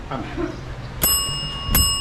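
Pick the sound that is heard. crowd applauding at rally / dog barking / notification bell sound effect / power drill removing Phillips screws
notification bell sound effect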